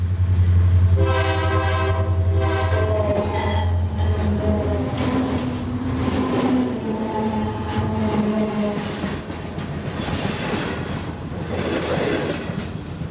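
A 3,000-horsepower EMD SD40-2 diesel locomotive hauls a freight train through Feather River Canyon in 1996, its engine throbbing loud and close over rolling wheels and rail clatter, with a long horn sounding early on.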